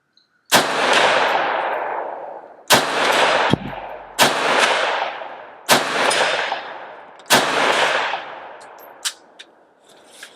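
A rifle fires five loud, sharp shots at a steel target 100 yards away, spaced about two seconds apart, and each report rings out with a long decaying echo. A few faint ticks follow the last shot.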